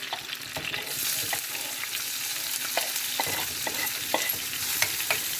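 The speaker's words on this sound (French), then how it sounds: "l'huile a chauffé et là je ne mets plus de... Voilà. Je mets mes oignons." Onions sizzle and fry steadily in hot oil in a pan, a close, continuous crackle with occasional stirring scrapes, with no talk over it.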